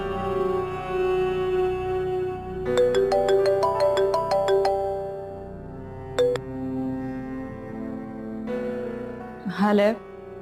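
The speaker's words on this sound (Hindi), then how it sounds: "रमजी का फोन नहीं है, तुम्हारी माँ का फोन है।" A phone ringtone plays a bright, repeating electronic melody over quiet background talk, followed by a few further tones.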